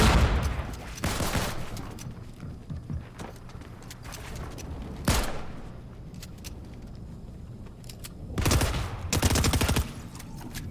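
Shooter video game gunfire: several sharp bursts of shots stand out over a busy background of game sounds and ambience, with the loudest clusters near the start, middle and end.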